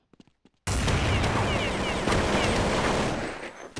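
Gunshots from Counter-Strike on the de_train map: a few quick sharp shots, then a sustained, loud roar of rapid gunfire that fades toward the end.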